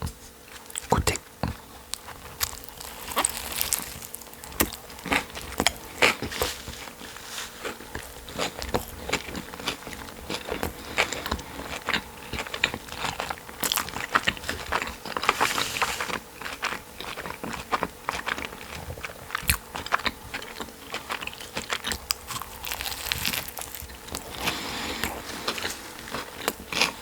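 A Burger King Ultime Cheddar burger with bacon, tomato and lettuce is bitten and chewed up close, with moist crunching, smacking and rustling that recur irregularly throughout while someone talks at times.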